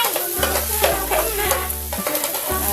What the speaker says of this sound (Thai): คั่วครับคั่ว โอ้โหกระเทียมไหม้เลยครับกระเทียมไหม